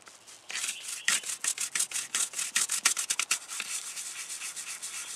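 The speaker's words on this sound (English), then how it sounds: "Look at this area where I'm scrubbing. You see the paint's already started lifting." A brush scrubs rapidly back and forth over an F7 model coated in oven cleaner to lift the paint, giving close, rhythmic scratchy strokes that quicken and then fade.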